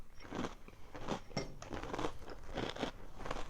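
Close, steady chewing with rhythmic crunches as someone bites into crisp H-E-B puffed cereal in milk, each chew a wet, crackly crunch.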